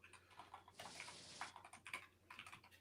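Fast typing on a computer keyboard during a coding session, clustered key clicks with a dense burst of rapid strokes in the middle, close and quiet.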